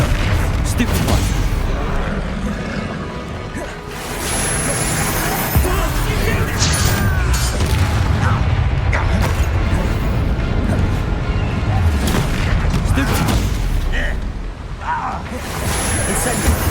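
Spell blasts from Confringo and Bombarda in the Hogwarts Legacy video game thud and boom repeatedly through a dense, continuous mix of combat noise, loud and close, with game voices shouting throughout.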